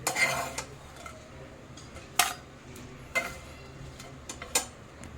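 Roasted dry bombil fish lifted from a pan onto a plate: a handful of sharp clinks and scrapes of utensil on dishware, spaced a second or so apart, close and fairly quiet with no talk.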